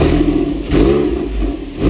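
A Porsche 911 with a rear-mounted 3.8-liter flat-six revs close by, its engine note rising and falling through a couple of throttle blips over a steady low rumble.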